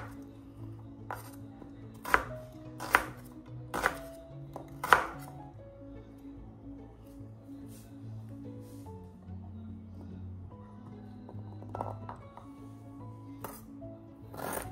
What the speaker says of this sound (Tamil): இப்போ வெங்காயத்தெல்லாம் வந்து கொஞ்சம் ரஃப்பாக வந்து கட் பண்ணிக்கலாம்